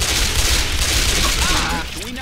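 Rapid bursts of gunfire from Left 4 Dead 2 crackle densely and loudly, close and continuous, with players talking over the shooting.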